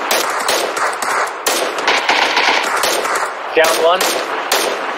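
Rapid automatic gunfire in an online shooter game, loud bursts of machine-gun fire in quick strings with brief gaps, up close, while players talk briefly over it.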